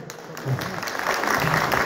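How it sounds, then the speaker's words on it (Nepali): Audience applause at a music event in Darjeeling, a short burst of clapping that swells after a brief pause and holds steady, fairly near. "मलाई पनि ताली बजाइदिनुहोस् है सबैले"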